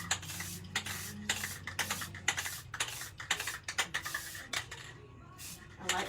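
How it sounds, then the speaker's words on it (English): Rust-Oleum 2x Ultra matte clear spray dusting a tumbler in a series of short, soft hissing bursts with brief pauses between them, close by and fairly quiet. "But when I'm doing a dust spray like this, you'll see that it starts turning green in some spots."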